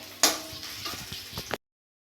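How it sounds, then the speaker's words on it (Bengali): Onions, chillies and a little garlic fry in a pan with a sharp sizzle burst and stirring scrapes up close, then the sound cuts abruptly to silence near the end. "পেঁয়াজ আর লঙ্কা ভাজা হচ্ছে, সঙ্গে একটু রসুন।"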